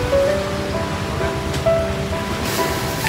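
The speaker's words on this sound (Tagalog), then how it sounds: "lakas ng hangin dito" Strong wind blowing steadily into the microphone, a constant rushing roar with faint tonal whistles over it.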